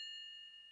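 A cartoon telephone rings with a steady, faint electronic tone that holds for under a second, with no voices over it.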